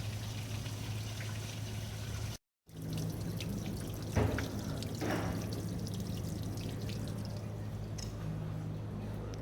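Water drains steadily out of a VW B5 floor through a grommet poked out beneath the battery area. It makes a faint, continuous trickling splash with a low hum in the background.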